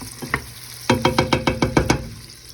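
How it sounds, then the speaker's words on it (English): A spoon stirs food quickly in a hot pan among eggs and greens, a rapid run of about eight scraping, clacking strokes over a soft sizzle, close and loud, with no talking. "Just stir this up really quick."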